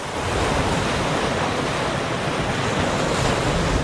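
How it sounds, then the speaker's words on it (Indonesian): Ocean waves breaking on the beach of Rani Island in Supiori, Papua, a loud, steady roar of surf with wind noise, continuous and close throughout, with no voices. "Deburan ombak terngiang bebas tanpa halang menepis bibir pantai."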